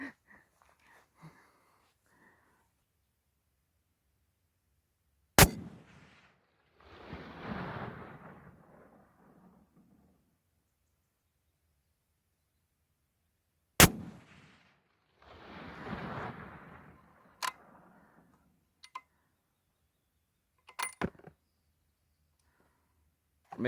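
Winchester 6.8 Western rifle firing 170-grain Power Point ammunition outdoors: several sharp, loud shots spaced seconds apart, each followed by a rolling echo, with a few fainter clicks between.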